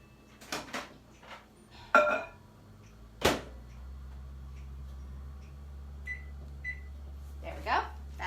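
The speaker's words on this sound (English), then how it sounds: "I'm going to pop it in the microwave." A microwave oven is loaded and started with door clunks and beeps, then a steady low running hum with occasional short beeps. Speech is also present.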